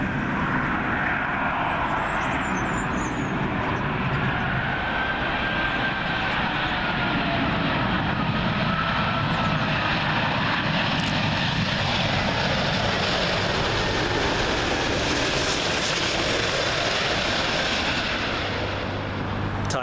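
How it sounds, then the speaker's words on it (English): A British Airways Airbus A380 arriving from Dallas at Heathrow produces a powerful, sustained engine roar that holds loud and steady throughout before easing slightly at the end, with no talking. "British Airways A380 in from Dallas, Texas."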